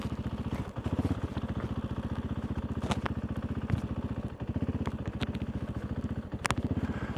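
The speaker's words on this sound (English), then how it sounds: "Let's see if the bike will stay idling for me." A KTM 390 Duke motorcycle engine idles on a cold winter morning with a fast, steady chugging pulse, slightly uneven, with occasional clicks and rattles over the throb.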